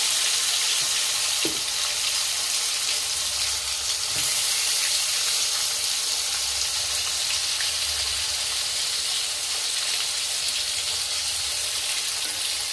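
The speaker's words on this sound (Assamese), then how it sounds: "তেলত দি ভাজিম দেই। তেলটো গৰম হ'বলৈ দিব দেই। শব্দটো শুনিছেই।" Chicken pieces frying in hot oil for barbecue-style fried chicken, making a continuous bright crackling sizzle that holds evenly throughout at close range, with a couple of faint knocks and no talking.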